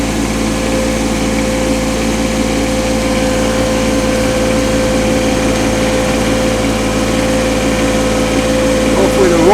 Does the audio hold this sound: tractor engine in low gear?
yes